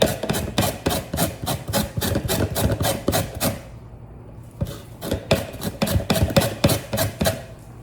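Lemon zest grated on the smallest holes of a grater, a close, rhythmic rasping of quick strokes, pausing briefly midway before the scraping resumes.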